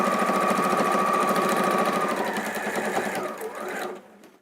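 A sewing machine stitches steadily through many thick layers of cushion fabric, a loud continuous mechanical whir close by that slows and fades out near the end.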